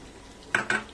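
A spoon knocks against a pot while fried onions and garam masala are stirred into mutton korma. There are two quick, close metallic clanks over a quiet background.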